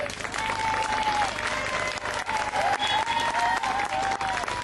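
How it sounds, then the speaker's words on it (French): Theatre audience at an amateur musical comedy applauding for Jean-Baptiste, steady dense clapping from a full hall, moderately loud and unbroken, with a faint murmur of voices beneath. "Un tonnerre d'applaudissements pour Jean-Baptiste."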